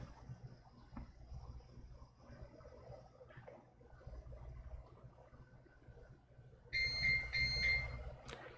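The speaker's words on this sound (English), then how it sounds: "that beeping will become incessant" A UPS battery backup unit sounds its alarm, two loud, piercing electronic beeps in a row near the end, after a low background hum with faint room noise.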